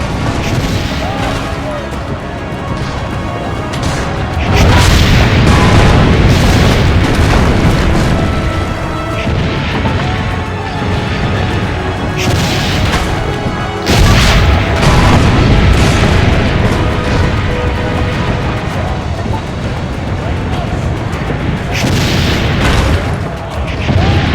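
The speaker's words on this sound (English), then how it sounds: "Destroy their cannons, signore!" Repeated cannon blasts in the Assassin's Creed Brotherhood video game on PS3, loud booming volleys rolling in waves over a sustained battle din, with several heavy bursts spaced across the stretch and faint voices in the mix.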